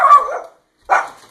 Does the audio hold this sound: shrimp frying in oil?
no